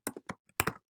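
Short bursts of typing on a computer keyboard at a command prompt, about five quick clustered keystrokes close to the mic in a quiet room, with no talking.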